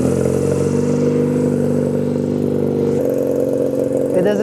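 The engine of a 1997 Honda Rebel 250 motorcycle idles steadily up close, a loud, even, low rumble with a slight shift in tone near the end.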